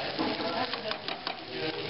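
Flour cooking in a pan for southern-style onion gravy for smothered pork chops, a continuous close sizzle under brisk scraping strokes of a stirring utensil.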